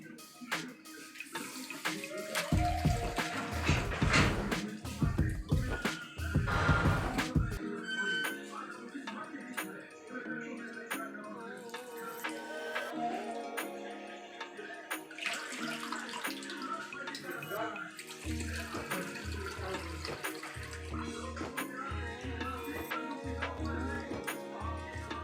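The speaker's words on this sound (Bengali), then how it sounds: "এখন আমি এই চালটা ধুয়ে নেব।" Water splashes and runs as Bhog rice is rinsed by hand in a bowl in a home kitchen, with steady trickling, swishing and occasional sloshing throughout.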